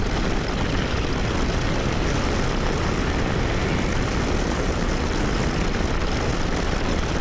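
A Harley-Davidson Street Glide or Road Glide engine, 117 or 114 cubic inches, pulls hard under throttle on a 2024 test ride; a loud, steady, broadband engine and wind roar fills the whole stretch without letting up.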